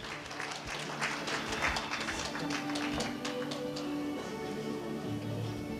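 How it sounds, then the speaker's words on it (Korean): Applause from the audience at a Korean labor culture award ceremony at Korea University, a dense, steady wash of many hands clapping for the full stretch at moderate level. "큰 박수 부탁드리겠습니다."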